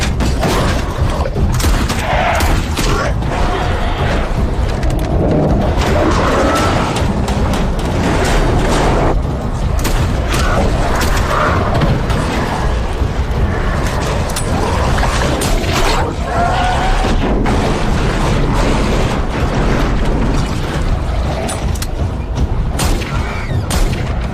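Continuous dense gunfire with heavy booming explosions, loud and close, a chaotic battle din that never lets up.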